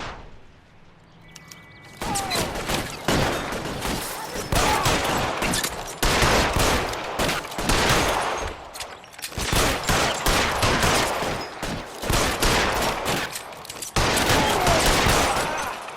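Bursts of rapid gunfire in a game firefight against security men, with dense volleys of shots and short gaps between them, loud and close for most of the stretch after a quieter opening.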